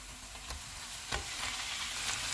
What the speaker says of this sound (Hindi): चूल्हे को फुल कर देंगे और मटन का कलर चेंज होने तक पकाएंगे।